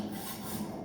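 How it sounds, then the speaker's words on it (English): A hand saw works steadily through a hard piece of steel during a drum mower build, giving a continuous close rasping scrape with no pause across the short stretch. "just a lot of sawing. Yeah. It's a pretty hard piece of steel."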